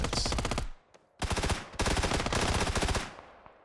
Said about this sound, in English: Dude just strafe deletes me with the SMG.